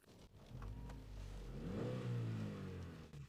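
A Honda CR-Z engine starts up and settles into a quiet, low idle hum that swells slightly, heard close and alone with no talking.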